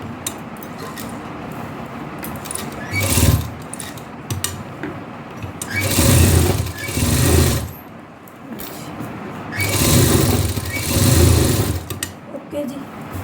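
An electric sewing machine stitching a V-neck design onto buckram, running in several bursts of whirring motor and needle clatter with short pauses between, close by, while someone talks.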